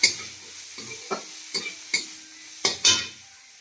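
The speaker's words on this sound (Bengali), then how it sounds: "পেঁয়াজটা বেশি ভাজবো না।" Onion sizzles lightly in a pan as a spatula stirs it, scraping in short separate strokes over a quiet frying hiss.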